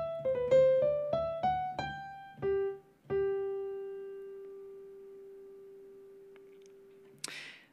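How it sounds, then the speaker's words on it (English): Bach's Minuet in G is played on a piano, beginning with a quick run of short notes that includes a mordent ornament. It ends on a long held note that fades slowly, with a brief clatter at the very end. "there is a mordent on the C there."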